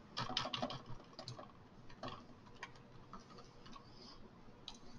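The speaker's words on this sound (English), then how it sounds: "we could simply just type in the serial number." Quick, light clicks of computer keys as a serial number is typed in an inventory program, soft bursts of keystrokes spread irregularly over several seconds, faint and close in a quiet room with no speech.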